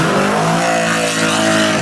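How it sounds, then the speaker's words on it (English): A Plymouth Hemi Cuda with a 426 Hemi V8 revs loudly and steadily, a dense harmonic engine roar held for almost two seconds before it cuts off abruptly. "The Hemi Cuda had a sound that could stop conversations mid-sentence."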